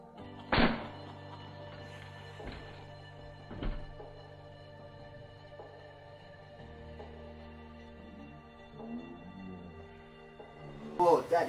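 A pellet gun shot bursts a small red target: a sharp crack near the start, then a few fainter thuds and knocks against a steady background hum, with a louder burst of noise at the very end.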